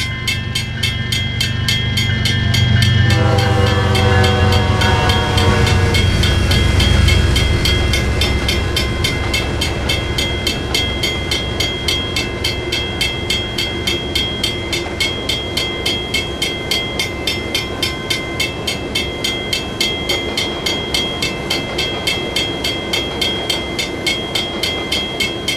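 A Norfolk Southern freight train rolls past close by, its heavy rumble fading into a steady clickety-clack of wheels over rail joints that continues throughout.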